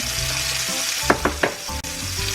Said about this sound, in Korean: 다시 가지 위에 계란물을 덮어서 올렸습니다.